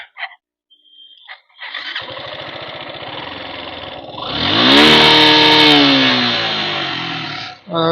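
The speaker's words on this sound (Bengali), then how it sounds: "এটা স্টার্ট দিচ্ছি দেখো সবাই দেখো কেমন আওয়াজটা" Suzuki Gixxer SF motorcycle: a few clicks, then a starter cranks before the engine catches and revs up loudly, rising and settling into a strong, close idle with some higher revving.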